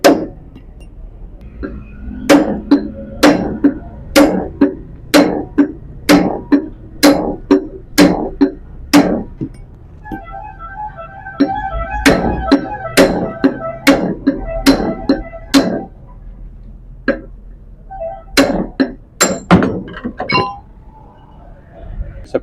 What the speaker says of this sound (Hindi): हथौड़ा मारना होगा।